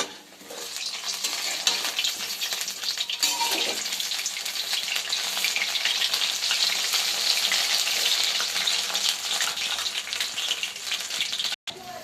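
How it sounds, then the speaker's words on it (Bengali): Cornflour-battered pieces frying in a pan give a loud, steady, crackling sizzle that holds for the whole stretch, with a brief dropout near the end. "ভেজে নিচ্ছি। কর্নফ্লাওয়ারে গুলেছিলাম।"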